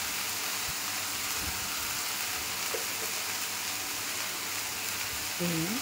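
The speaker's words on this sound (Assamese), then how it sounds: "আৰু এতিয়া আৰু অকণমান ভালকৈ ভাজি ল'ম" Dhekia fiddlehead greens fry in a pan with turmeric and salt, a soft steady sizzle throughout, fairly faint, with a brief voice near the end.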